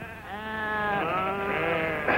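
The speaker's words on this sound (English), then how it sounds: "Lassie, cut out Val's sheep." A sheep bleats in a long, wavering call on a farm, loud and close, with a second bleat starting right after it.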